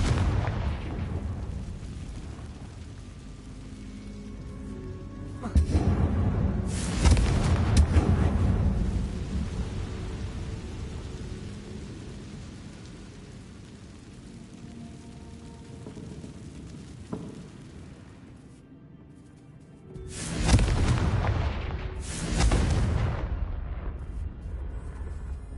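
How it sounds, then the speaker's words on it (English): Confringo fire spell cast in the video game Hogwarts Legacy inside a haunted Hogsmeade shop, loud booming blasts bursting out in two clusters, the first around a few seconds in and a second pair near the end, over a low rumbling game ambience. "Confringo."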